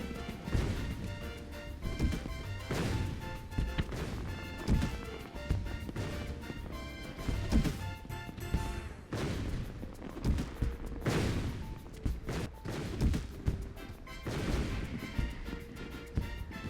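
Bombs exploding during a Final Fantasy XIV Moonfire Faire event, a series of sharp crashing blasts scattered irregularly among busy game music and effects, fairly quiet overall with no speech.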